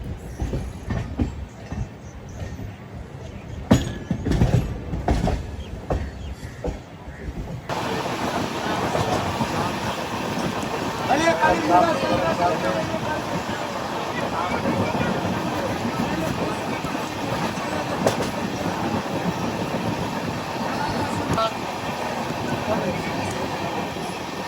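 Falaknuma Express rolling along the rails, a steady broadband rumble with faint rhythmic clatter that grows fuller after a quieter, sparse opening, continuous and moderately loud.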